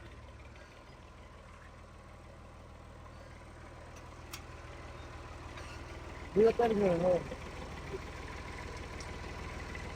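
A tractor engine runs steadily with a low, continuous rumble under the whole stretch, while a short spoken phrase rises above it midway.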